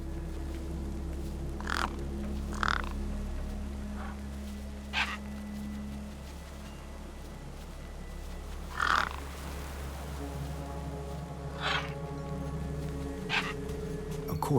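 Crows caw in short separate calls over a steady low rumble in a game scene of birds feasting, some calls near and loud, others fainter, spread across the stretch with no talk.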